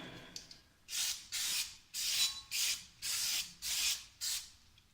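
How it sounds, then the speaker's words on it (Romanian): Brake cleaner sprayed onto a front brake disc of a Nissan Micra K14 during a pad and disc change, heard as seven sharp, loud hissing bursts of about half a second each in a steady rhythm, close up with no talk. "Și acum am să dau cu spray de frâne."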